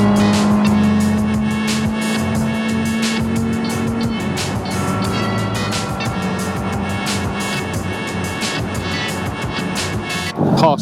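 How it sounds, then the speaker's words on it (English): A Ford Sierra with a straight-through or broken exhaust drones past at a classic Ford show, a loud, raspy engine note holding steady then fading under general car noise, with a sharp clunk at the end. "Is that a straight through exhaust or a broken exhaust?"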